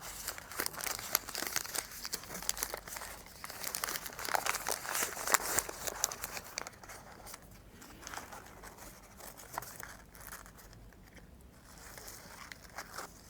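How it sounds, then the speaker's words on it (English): Oil paper crinkles and rustles as it is wrapped around a 110 series injector valve assembly. The handling is close and steady, busiest in the first half, then softer and sparser. No one speaks. "Generally, we will use this kind of oil paper to wrap it up."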